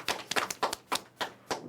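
Children in an early-years maths class clap in short bursts, a few quick rounds of fairly close, crisp hand claps separated by brief gaps, with no talking.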